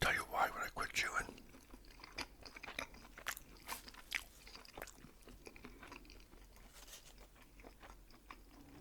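Someone chewing a McDonald's breakfast close to the microphone: quiet, wet crunches and bites repeating irregularly, with soft whispering at times.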